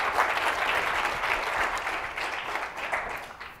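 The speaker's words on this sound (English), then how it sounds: "how about another round of applause for Lewis Bollard?" An audience applauds warmly, a full round of clapping that stays strong and then tapers slightly toward the end.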